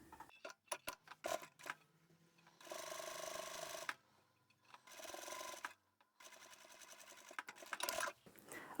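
A sewing machine backstitching fabric makes close, rapid mechanical whirring in several short bursts with brief clicks and quiet pauses between them.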